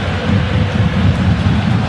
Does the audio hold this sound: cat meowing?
no